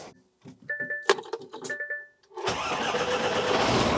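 A DAF 105 XL truck engine cranks and starts after keys jangle and a few clicks, then settles into a loud, close, rumbling idle.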